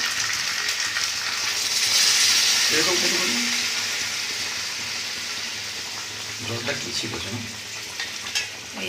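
Hot water pours into a pan of sizzling chicken kosha with fried potatoes, giving a loud hiss that fades into steady frying and stirring sounds.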